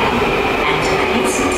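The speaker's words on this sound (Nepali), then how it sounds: "जान आँटेको ट्रेन चाहिँ यही हो." Train noise in South Korea: a steady, loud rumble of a railcar runs continuously, with no clear clatter or individual beats standing out.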